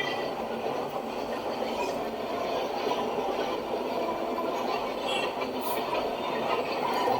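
A WAP-4 electric locomotive hauls an MS-VM passenger train between Tambaram and Chengalpattu, a continuous rolling rumble and rattle of coaches on the rails, steady and close with faint wheel squeals.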